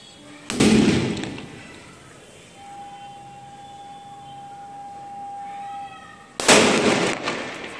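Two sharp, loud firecracker bangs about six seconds apart, with a quieter steady whine and faint background hum in between.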